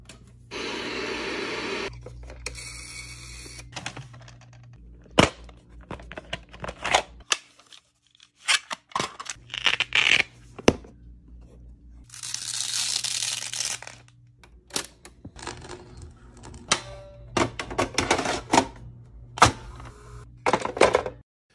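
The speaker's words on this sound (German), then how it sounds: "Von Kassette in den Videorekorder, ins Tape-Deck und so weiter rein." Retro 1980s home electronics: cassettes pushed into a VCR and a tape deck, with mechanical clicks, clunks and whirring, bursts of TV static and hiss, and sharp snaps spread irregularly throughout, no talk.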